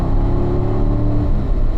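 A car engine pulls hard and loud down a race track's long back straightaway, a steady, close droning roar from inside the car.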